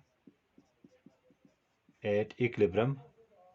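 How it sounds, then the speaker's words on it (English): Handwriting an equation, likely a pen or marker on a board, gives a string of faint, evenly spaced short strokes, then a person starts talking over quieter scratching. "let me write it here"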